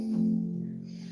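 A pipe organ sounds a single flute stop at 16 foot pitch, holding one smooth, low, steady note alone for about a second.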